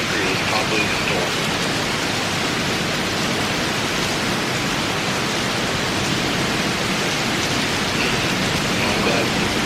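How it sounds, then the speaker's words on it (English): Heavy storm rain, with hail reported, roars as a loud, unbroken wash of noise heard from a Tesla during a road trip near UNCC, steady and enveloping throughout. "It's probably the storm."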